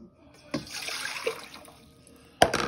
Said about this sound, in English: First, let's add our water.